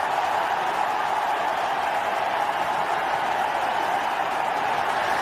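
A large cricket crowd in Chennai roars as India win the test match against Australia, a dense, steady wall of cheering and applause heard from a distance with no break.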